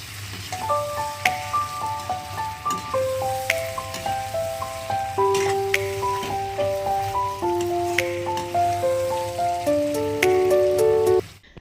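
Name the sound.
chicken frying in a pan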